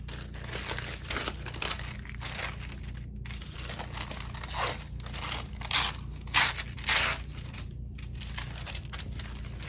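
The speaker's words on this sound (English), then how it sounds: "I'm gonna rip some pieces" Delicate Dollar Tree tissue paper is crinkled and torn into pieces close up, a run of papery rustles and crisp rips with brief pauses between tears, over a low steady hum.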